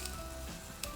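Curry leaves crackle in hot oil during a tempering of mustard seeds, red chillies and ginger for a black chana curry: a faint, steady sizzle with a brief brighter burst near the end.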